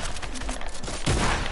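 A sniper shot in a first-person shooter video game, with dense bursts of gunfire crackling over a short stretch and a heavier blast near the end, with no one talking.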